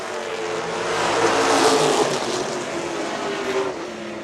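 Pro stock cars race at speed around an oval track, a loud, continuous roar of engines swelling as the pack passes and then holding steady with a broad, rushing drone.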